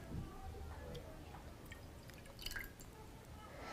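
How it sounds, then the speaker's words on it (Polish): Water is poured onto a plate for a children's physics experiment on surface tension, giving soft, close trickling and dripping that runs through the moment with faint background noise. "Zaczniemy od nalania wody do naszego talerza."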